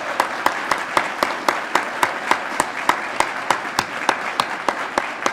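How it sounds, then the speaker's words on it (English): Audience applause at the Woodburn Distinguished Service Awards ceremony: a steady, even patter of many hands clapping with regular sharp claps standing out, sustained at moderate loudness for the whole stretch with no speech. "let's give them all a round of applause."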